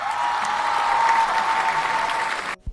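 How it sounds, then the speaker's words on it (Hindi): A burst of steady, bright applause plays for a comedic cartoon moment, sustained evenly for a couple of seconds before cutting off abruptly, followed by a brief low thump. "तालियां तो बनती है ना इस बात पर"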